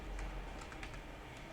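Quiet, rapid typing of Java code on a computer keyboard, soft key clicks in an irregular run with no voice.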